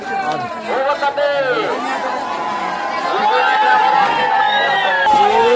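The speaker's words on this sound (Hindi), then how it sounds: "ये देखिए भीड़ अभी धीरे धीरे हो रहे हैं दोस्तों" A large crowd gathers at the Ruguda Bahuda Yatra chariot festival in Odisha, a dense murmur of many voices close by that grows slightly louder, with nearby individual voices and calls rising over the babble.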